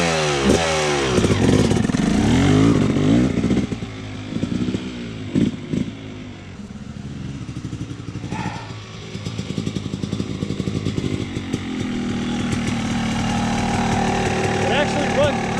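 A Yamaha YZ250 two-stroke dirt bike engine at Wicomico Motorsports Park revs up and down near the microphone, then settles into a buzzing run under people talking.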